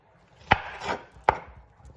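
A plantain is sliced into pieces for patacones, one-handed: two crisp knife chops thud onto a cutting board, close up and spaced under a second apart, with no talking.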